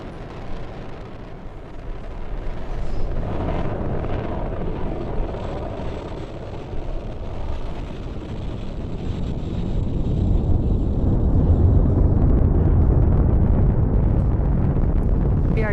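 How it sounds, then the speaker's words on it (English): A SpaceX Falcon 9 rocket with nine Merlin 1D engines lifts off carrying the SPHEREx and PUNCH spacecraft, a loud, continuous broadband roar and rumble that thickens and deepens steadily, heard alone without voices. "Liftoff of the Falcon 9."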